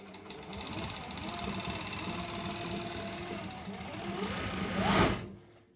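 A JUKI MO-6804S three-thread overlock sewing machine runs steadily, with a fast, even whirring and rattling hum throughout that swells briefly near the end before winding down.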